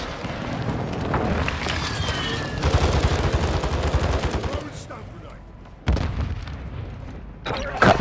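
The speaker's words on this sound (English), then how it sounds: "Went up for that airstrike." Airstrike explosions and bursts of gunfire in a multiplayer shooter video game, loud and dense with heavy booms and rapid crackling shots, sharp blasts near the end, with players chatting over the action.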